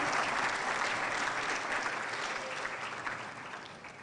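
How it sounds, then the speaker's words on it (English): An audience at a pharmacy white coat ceremony gives sustained applause, a thick wash of clapping that gradually fades toward the end, with no voices over it. "Shall we give a round of applause to the Faculty of Pharmacy and"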